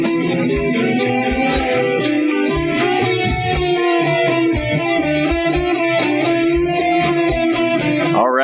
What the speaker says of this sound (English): What you just heard was the Ancient Light theme song.